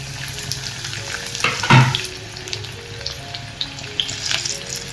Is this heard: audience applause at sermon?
no